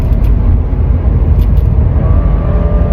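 A 2014 Cadillac ATS 2.0T AWD drones loudly from inside the cabin under hard driving through a gear shift, as a dense, constant low engine and road roar with no talking.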